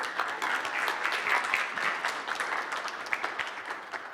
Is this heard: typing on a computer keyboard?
no